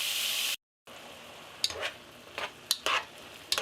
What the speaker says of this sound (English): Just trying to get a nice sear on the outside of the meat, as well as get some of those onions caramelized.